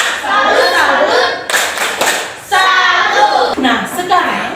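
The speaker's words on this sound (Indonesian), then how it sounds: "Tepuk salut sekali lagi untuk kamu dulu." A classroom doing the rhythmic "tepuk salut" clap, with bursts of patterned clapping by children alternating with chanted voices, close and lively, in short clustered groups.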